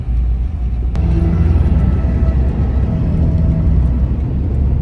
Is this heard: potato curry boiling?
no